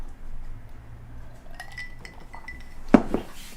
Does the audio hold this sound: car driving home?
no